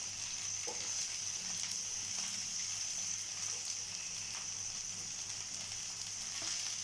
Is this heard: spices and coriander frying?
yes